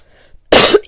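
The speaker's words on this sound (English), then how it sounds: "See, I'm coughing, right?" A single loud, close cough bursts out after a near-silent moment, followed by the start of another.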